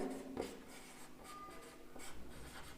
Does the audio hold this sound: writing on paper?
yes